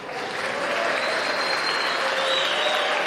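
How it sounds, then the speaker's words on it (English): Steady applause from a neighbouring table at a pool world team championship, dense and continuous for the whole stretch at moderate distance, with faint crowd murmur beneath. "that was very timely applause from the other table"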